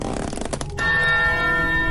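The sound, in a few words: monastery belfry bells ringing in a video game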